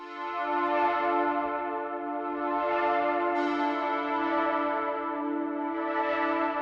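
Sustained dark trap beat chords play with a tension note lowered a quarter step, forming a rich, steady harmonic pad that holds evenly with gentle swells and no speech.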